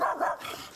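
A dog gives a couple of quick, close barks, a yappy burst followed by a fainter tail, with no talk over it.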